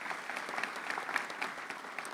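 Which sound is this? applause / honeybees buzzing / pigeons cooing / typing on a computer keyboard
applause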